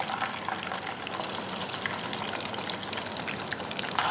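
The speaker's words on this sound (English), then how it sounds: "now I'm going to put on my fries" Fries frying in hot oil, a steady, dense, close sizzle and crackle that holds evenly throughout with no speech.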